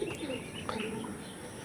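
Pigeons of one breed kept for sale cooing continuously at close range, soft throaty calls over a constant background hum, with no speech.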